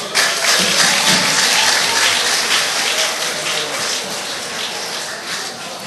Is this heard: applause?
yes